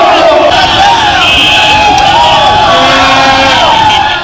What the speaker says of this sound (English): The crowd marched all the way to Huduma Center to present a memorandum to Kisumu County Central Assistant County Commissioner Hussein Haleso as they chanted anti-Ruto slogans.